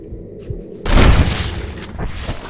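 Heavy gunfire volley in Red Dead Redemption erupts after a quieter stretch, a dense booming burst that rolls on with scattered shots and rumbling echoes.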